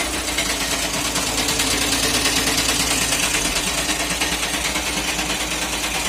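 Volkswagen Passat engine idling with a faulty dual-mass flywheel, a loud, steady, close mechanical drone with a rapid rhythmic rattling pulse throughout.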